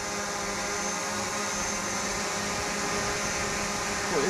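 Steady high-pitched whine of a small drone's rotors, close and continuous with a constant tone, no voices.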